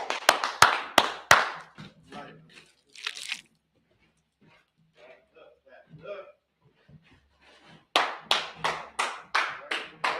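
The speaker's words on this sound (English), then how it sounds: "Gonna clap it up for him" Clapping from a class audience in bursts at the start and again near the end, with quieter talk and scattered sounds in between.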